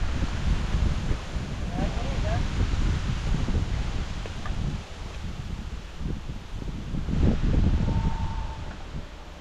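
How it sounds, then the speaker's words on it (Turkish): Strong, steady wind buffets the microphone outdoors in a rural village field, a continuous low roar gusting louder near the end, with rustling in the background. "ha çok rüzgarlı."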